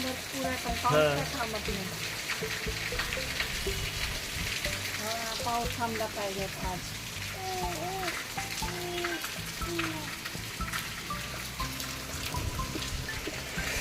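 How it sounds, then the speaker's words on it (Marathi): Continuous heavy monsoon rain with wind during an orange alert in Maharashtra, a dense steady hiss filling the background under ongoing talking voices. "सकाळपासून वारा पण आहे पाऊस पण आहे"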